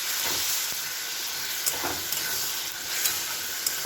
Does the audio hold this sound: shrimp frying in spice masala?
yes